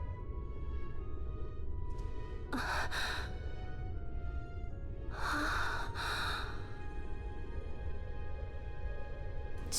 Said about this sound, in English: Sensual gasping noises.